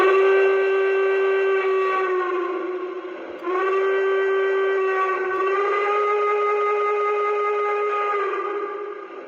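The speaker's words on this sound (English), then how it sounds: "we're gonna listen to this hooter whistle" A Lionel 3005 L3A Mohawk model train's hooter whistle sounds in long, steady, hollow blasts, loud and close, briefly dipping between notes before sounding again.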